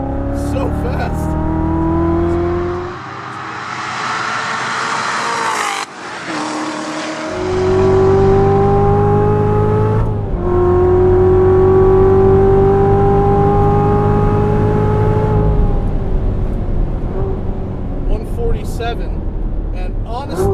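A DSC Sport tuned 2016 Corvette Z06 V8 on a race track climbs through the revs in long pulls, shifts with sharp drops, and roars hard again, heard from inside the car with someone talking over it.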